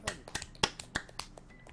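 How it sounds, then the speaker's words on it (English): Sharp hand claps crack out at a film set gathering, about eight quick uneven hits in under two seconds, close and crisp with a faint voice underneath. "let's do a clap for Stuart"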